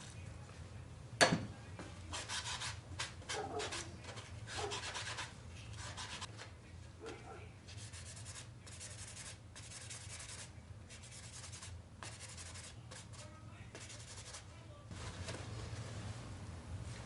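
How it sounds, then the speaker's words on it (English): A 1200-grit foam sanding pad scrubbing the pistons of a Volvo brake caliper fitted to a 1968 BMW 2002, producing quiet, close, repeated rubbing strokes in an irregular rhythm, with one sharp tap early on. "This foam, little foam pad is 1200 grit."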